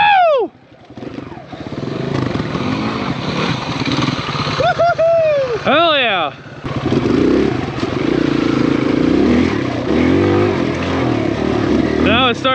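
A lightweight full-size-wheel four-stroke dirt bike rides off-road, its engine revving up and down in rising and falling sweeps, close and loud over clattering, with someone speaking over it.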